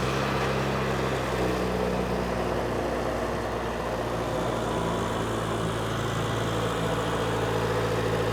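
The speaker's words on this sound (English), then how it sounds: "it's just a little modern turbocharged engine, so it just kind of clicks around" A Mercedes 190E fitted with a small modern turbocharged engine idles steadily, giving a continuous low, even hum with no revving or talk.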